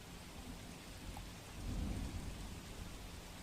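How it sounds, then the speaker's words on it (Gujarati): Continuous heavy rain pours over waterlogged streets in Vadodara, a steady broadband hiss that swells with a low thunder rumble partway through, with no voices. "તો વડોદરામાં સતત વરસાદી માહોલ આપ જુઓ"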